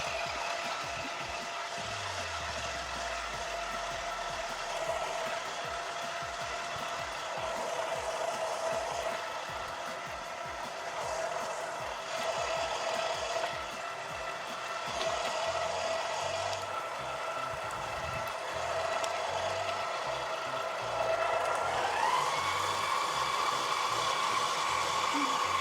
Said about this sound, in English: The first grind with a coarse plate, that's the plate with larger holes, is done